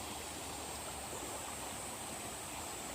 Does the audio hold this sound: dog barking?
no